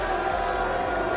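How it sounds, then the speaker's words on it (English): A large arena crowd at an Overwatch esports championship reacts with mixed boos and applause, producing a dense, sustained wash of noise heard from a distance. "That received about a 50-50 boo and applaud."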